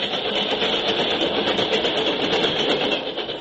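Old recorded Rock Island railroad trains give a continuous, heavy rumble of engine and rolling cars, steady and fairly loud throughout before easing slightly at the end.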